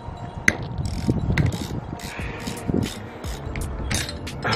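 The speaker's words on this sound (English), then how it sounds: "17 millimeter wrench and 5 millimeter Allen key" Ratcheting, metallic clicks and scrapes as a 17 mm wrench and a 5 mm Allen key work loose a seized, crusty nut on a BC Racing coilover, close and fairly loud in short bursts.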